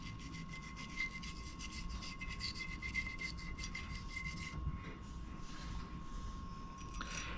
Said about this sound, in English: That's why you have a smaller nylon brush to help get into those small spots.